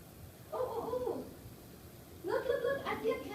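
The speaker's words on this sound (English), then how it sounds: "Look, I see a cat." A cat meows twice, a short call and then a longer one after a pause, moderately close over faint background noise.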